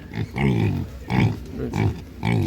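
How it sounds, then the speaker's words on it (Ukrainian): Close, loud grunting from a piglet at an animal market, in several quick bursts with short pauses between them. "Це така симпатична свинка залітка."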